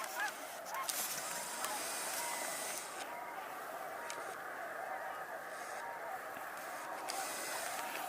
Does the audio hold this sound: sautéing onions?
no